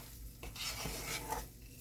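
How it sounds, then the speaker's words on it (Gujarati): Bajra flour sukhadi being stirred in a pan with ghee and melted jaggery, a soft continuous scraping and sizzling close by, steady for about two seconds with no voices. "ઘી છૂટું પડ્યું એટલે આપણી સુખડી ગોળ ગોળ ફરશે."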